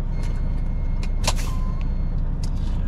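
A semi-trailer truck shifting into reverse and backing up during a heavy-vehicle licence manoeuvre, its engine idling in a steady low rumble broken by a few short, sharp air hisses and clicks.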